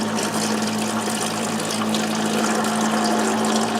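A parts washer pumps washing solution over a 2007 Hyundai Tiburon SE lower intake manifold in a driveway, a steady hum with constant splashing and gushing liquid, close and unbroken.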